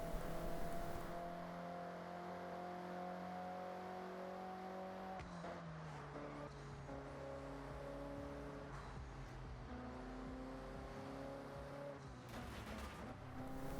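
Ferrari engine in the video game Forza Horizon 6, a 458-style car based on the 488, droning steadily with shifting pitch as it accelerates, with gear changes near five and twelve seconds and no talk.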